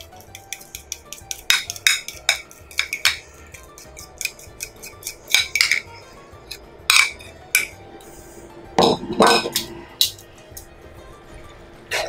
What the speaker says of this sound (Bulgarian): Започвам да бъркам.